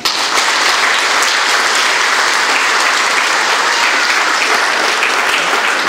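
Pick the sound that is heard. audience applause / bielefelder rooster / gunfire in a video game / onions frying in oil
audience applause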